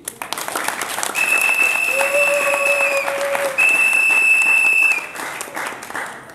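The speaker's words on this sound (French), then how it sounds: "On applaudit." Applause at an installation ceremony for a new director general of ISDR Mbandaka, a steady loud wash of crowd clapping with sustained whistle-like tones over it, cutting off near the end.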